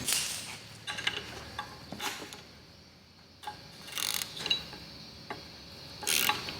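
A ratchet fitted with a wiggle-head extension loosens bolts on an old JAP outboard motor, giving bursts of quick close clicking separated by short quiet pauses.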